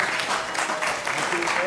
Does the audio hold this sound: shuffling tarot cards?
no